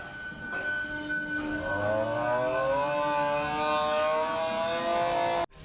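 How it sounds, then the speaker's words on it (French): A Toulouse metro train starts up with a rising, siren-like whine, several tones climbing steadily in pitch and loudness over a constant rumble, then cutting off abruptly near the end. "le métro de Toulouse, c'est le meilleur du monde. Pour une seule bonne raison, c'est que quand il démarre, il fait un bruit marrant"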